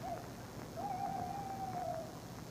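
A recorded tawny owl hoot plays outdoors in autumn, a short note followed by a long, wavering, drawn-out hoot lasting over a second, clear against quiet background hiss.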